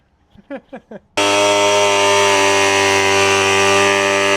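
A few short bursts precede a power tool starting up, then it cuts steadily through a Subaru bumper with a loud, harsh, buzzing whine that holds close and constant.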